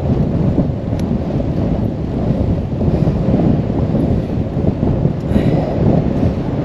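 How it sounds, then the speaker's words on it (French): Strong north wind buffets a cyclist's microphone on a grey day's ride through the Auvergne, a loud, steady rumbling roar of gusts with no talk. "Et puis j'ai un vent du nord là qui me ralentit bien."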